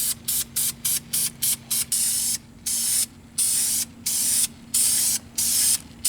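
Spray can applying a third coat of paint to brake calipers, heard as about a dozen short hissing bursts of varying length in an irregular rhythm, close and fairly loud with brief quiet gaps between.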